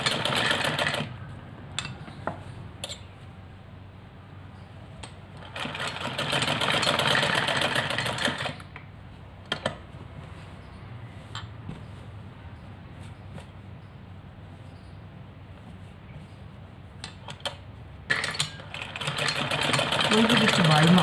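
A sewing machine stitches a cloth patch onto a dupatta in slow, careful bursts, its motor whirring in several runs separated by pauses, close by, with a person talking over it.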